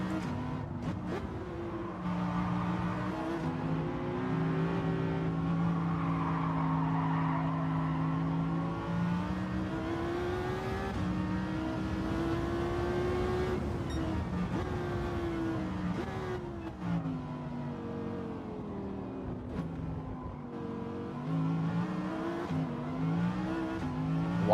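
A race car engine in an iRacing-style sim racing game drones continuously, its pitch climbing and sagging as the revs rise and fall through gear changes, with no voices over it.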